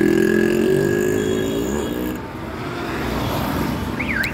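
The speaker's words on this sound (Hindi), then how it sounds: "अब गाड़ी वहाँ से सामने से आ रही है, आप ज़रा इसका ये परफॉर्मेंस देखिए" A restored stock Yamaha RX100 motorcycle rides past near Bhopal Junction, its engine note close and loud, then dropping in pitch as it passes into steady road rumble.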